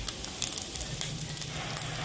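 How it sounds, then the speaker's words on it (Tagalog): Ground pork frying alone in its own rendered fat in a pan, a steady close hiss and crackle with small pops, no voices. "Piniritong giniling lang yan na walang ibang nilagay muna. Hanggang sa lumabas ang oil niya."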